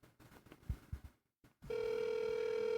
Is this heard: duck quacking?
no